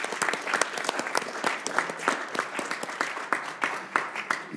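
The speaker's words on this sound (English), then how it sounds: "let's give Ambassador Killian a round of applause" An audience applauds at a commission hearing, a lively round of many hands clapping with distinct sharp claps standing out, holding steady throughout without speech.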